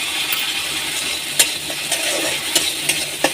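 Potatoes frying in a pan give a soft, steady sizzle. A few sharp metallic clinks from a spoon against the pan stand out close by.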